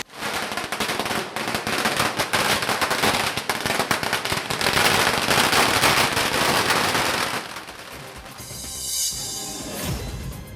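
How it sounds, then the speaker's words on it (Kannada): Party workers set off firecrackers to celebrate a Bidadi municipal council election win: dense, rapid crackling bursts roar continuously for about seven seconds, then thin out to scattered pops and fizzing. "ಜೆಡಿಎಸ್ ಕಾರ್ಯಕರ್ತರು ಪಟಾಕಿ ಸಿಡಿಸಿ ಸಂಭ್ರಮಿಸಿದರು"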